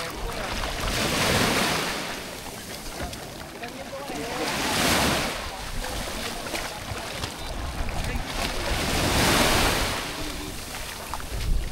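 Sea waves wash onto the shore in slow, recurring surges, each swell rising and falling over a few seconds, with wind noise buffeting the microphone throughout.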